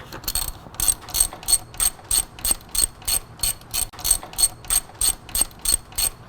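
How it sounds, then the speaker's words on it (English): A hand ratchet loosens motorcycle front brake caliper bolts. It gives a rapid, regular clicking of about two strokes per second, loud and close, with no talking. "Now we'll come over to this side and remove these bolts from this side as well."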